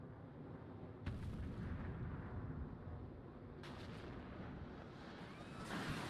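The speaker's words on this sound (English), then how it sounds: "Now this is a really bad artillery shelling that I'm doing here" Artillery shelling rumbles through the war game WARNO, with three heavy booming impacts over a low, continuous battlefield roar.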